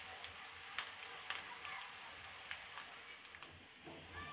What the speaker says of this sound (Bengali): পেঁয়াজটা আমি ব্রাউন কালার হওয়া পর্যন্ত ভেজে নিব।